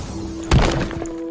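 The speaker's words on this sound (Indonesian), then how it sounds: "terdengar suara piring-piring pecah dari kamarnya" A single sharp crash of breaking plates, a brief loud impact with a short rattling tail, against a quiet steady hum.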